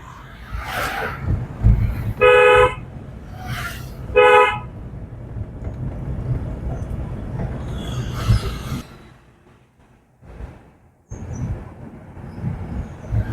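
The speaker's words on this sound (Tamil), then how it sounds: "ஒரு முறை ஹாரன் மட்டும்." Two short car horn toots, sharp and close, early on, followed by idling engine and traffic rumble.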